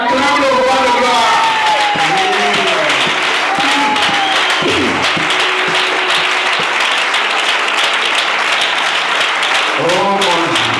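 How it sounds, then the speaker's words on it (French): A church congregation claps and cheers loudly and without pause, with singing or shouting voices rising above the steady applause. "On acclame le roi de gloire."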